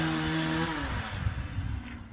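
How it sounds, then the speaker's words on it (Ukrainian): A rotary hammer chisels into the masonry wall of a village house to widen a front door opening, a loud, rough, steady pounding that carries on throughout without any voices. "Тут зробив нарізи і перфоратором"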